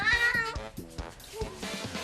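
An indoor cat gives a short series of clear meows close up, several distinct calls in quick succession over about two seconds.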